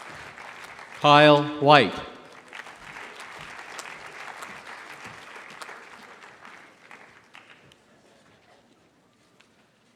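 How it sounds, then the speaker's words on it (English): Applause from a commencement ceremony audience swelling and then fading out over several seconds, following a name read aloud over a loudspeaker. "we welcome your applause for the Master's Class of 2014"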